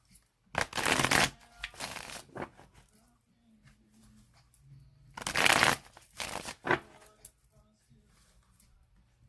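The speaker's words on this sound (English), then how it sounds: "I'm going to shuffle it 3 more times." Tarot cards being shuffled in two quick bursts of riffling and flapping, with quieter handling and soft tapping in between, close up.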